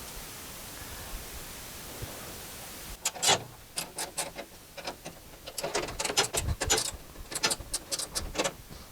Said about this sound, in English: and tighten the bolts back up.